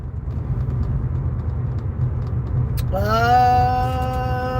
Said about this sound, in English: I don't believe how much traffic there is